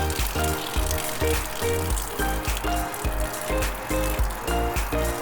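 Water draining from a camper's hose, a steady splashing gush with rhythmic pulses and low thumps repeating through the clip, no talk.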